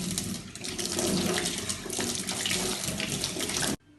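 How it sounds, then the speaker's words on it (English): Tap water runs steadily into a sink while hands are washed, a continuous close splashing stream that stops abruptly near the end, with no talking. "Put my hands in the sink."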